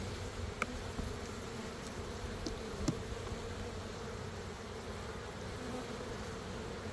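Continuous low buzzing of many honeybees at an open hive during a nuc split, close and steady, with a few faint clicks and no voices.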